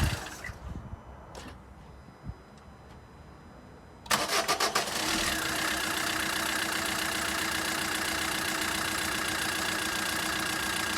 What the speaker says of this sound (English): See how quickly that started up, now it's warmed up.